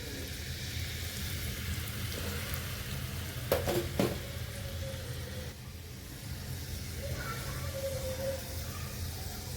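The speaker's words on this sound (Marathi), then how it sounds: "त्यामुळे लसूण चांगला भाजून घ्यायचा आहे." Garlic frying in hot oil for a tadka over methi malai matar, a steady low sizzle with a couple of sharp metallic clinks from a spoon against the pan partway through.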